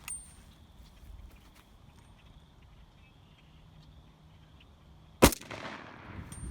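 A DSA FAL rifle, the Belgian-designed short-stroke piston battle rifle, fires a single sharp, loud shot after a long stretch of quiet outdoor background, with a brief tail of echo afterward.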